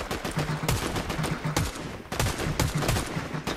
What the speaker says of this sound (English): Good thing I have the sniper rifle.